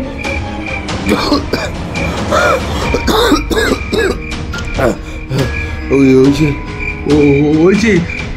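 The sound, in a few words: dry coughing a couple of times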